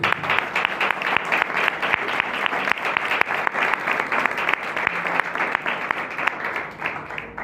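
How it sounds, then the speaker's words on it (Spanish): A church congregation applauds for Jesus during a Spanish-language sermon, a dense steady burst of many hands clapping that fills the room for several seconds without letting up. "Dale un aplauso a Jesús."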